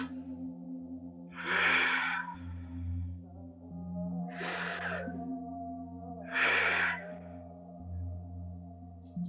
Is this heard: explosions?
no